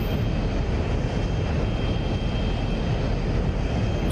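Roaring afterburner of an F-106 Delta Dart jet in the DCS flight simulator, a dense, unbroken loud engine rush filling the sound, steady and close with no talking.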